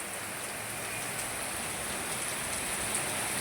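Heavy rain pours steadily outdoors in a dense, even hiss that fills the whole stretch with no let-up, with no voices.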